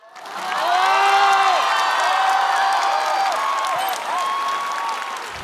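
Audience applause at a stand-up comedy show swells quickly into a loud, sustained roar of clapping, with cheers and whoops rising above it before slowly tapering off.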